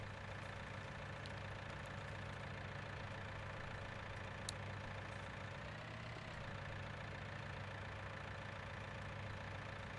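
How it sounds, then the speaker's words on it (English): A John Deere 6R tractor engine idles steadily in Farming Simulator 19, a continuous droning hum with no talking over it. "the 6R is a beastie tractor"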